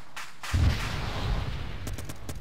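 Heavy gunfire in a military video game battle, a sudden loud booming blast followed by rumbling sustained fire and a few sharp cracks near the end.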